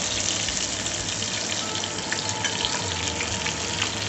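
Pomfret fish frying in a pan of oil as it is flipped, a loud dense crackling sizzle that runs unbroken and close up, with no voices.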